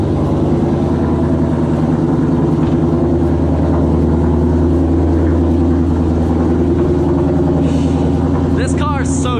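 A custom car engine idles steadily while warming up, a low continuous rumble close by with faint voices in the background and a few brief high chirps near the end.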